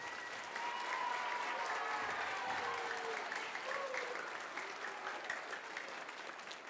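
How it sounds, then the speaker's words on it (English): A school Christmas concert audience applauds the music teachers, with dense, steady clapping from a crowded hall that swells early and holds, a few faint voices mixed in beneath it. "Let's give them a big round of applause"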